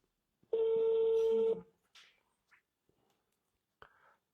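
A sustained electronic telephone tone lasting about a second, followed by a few faint short clicks and blips, then a brief burst near the end.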